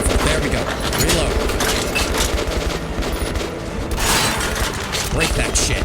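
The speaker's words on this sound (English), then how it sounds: "Give me the anti-tank rifle." Anti-tank rifle shots in a Metro game, loud heavy gunfire with booming reports over a busy mix of combat noise and effects, sharp bursts near the one-second and four-second marks.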